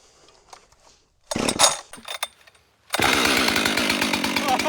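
A Husqvarna 564XP chainsaw starting for the first time at a jobsite: a few pull-cord rattles and clunks, then the engine catches into a loud, close, steady buzzing idle.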